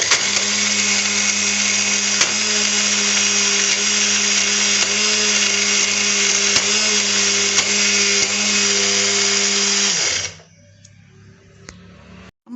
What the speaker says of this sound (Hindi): इसको मैं ग्राइंडर में अब ग्राइंड करने लगी हूँ।